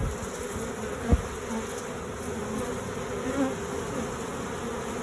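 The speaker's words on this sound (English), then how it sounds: "Lots of bees here in the air." A steady, droning buzz of a honeybee swarm fills the air in a backyard, continuous and fairly close, with a brief thump partway through.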